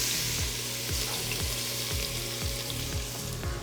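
Diced celery sizzles steadily in olive oil with pancetta drippings and veal fat, a loud, even frying hiss broken by regular, rhythmic stirring taps in the pan.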